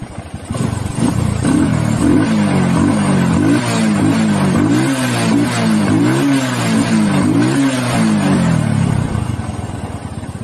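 A Honda Kharisma / Supra 125 motorcycle engine runs steadily up close during ignition-system checks, its loud, continuous note rising and falling in a repeating wavering pattern.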